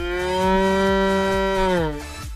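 A violin imitates a cow's moo with one sustained, rich bowed tone that bends downward in pitch near the end, over faint rhythmic low pulses.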